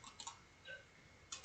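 Soft, close keystrokes on a computer keyboard while typing Python code, a few quick taps in a small cluster followed by isolated presses, faint over a quiet background.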